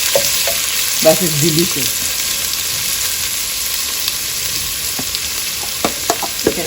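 Onions fry in a pan for chicken biryani, a close, steady sizzling hiss with occasional pops and stirring clicks, while someone speaks briefly over it.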